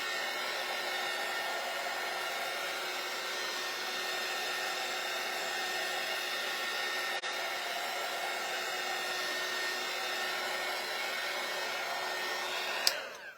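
Hair dryer blowing on lightly painted Christmas tree craft pieces, a steady, even motor hum with a whistling airflow that runs unbroken before cutting off with a brief thump at the end.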